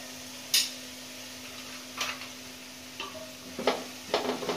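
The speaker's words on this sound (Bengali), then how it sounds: "এবার এটাকে ভালো করে মিশিয়ে নিচ্ছি।" Spoon scraping and stirring soy sauce with ingredients in a pan while making chicken Thai soup, a handful of short separate clinks and scrapes over a quiet steady hum.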